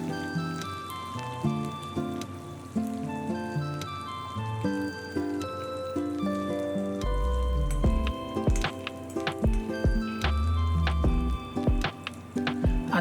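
Ginger-garlic paste fries in hot oil with cumin seeds for a spicy fresh-pea curry, giving a continuous crackling, spattering sizzle with brief louder bursts and a tonal background layer, with no talking.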